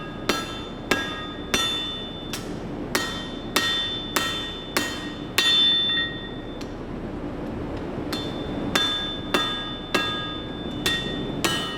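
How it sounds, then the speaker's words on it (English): Hammer blows on a knife blade being forged, a steady series of sharp metallic strikes with ringing overtones, roughly one per second, close and loud, with a short pause midway before the rhythm resumes. "Just grip it hard, hammer it hard."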